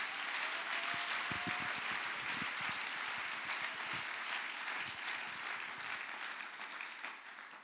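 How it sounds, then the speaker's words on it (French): A church congregation applauds loudly and steadily throughout, a dense wash of clapping with some cheering voices mixed in, fading slightly toward the end. "tu peux acclamer très fort pour le roi de gloire"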